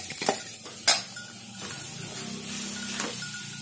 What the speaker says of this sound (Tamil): நல்லா கிண்டி விடணும்.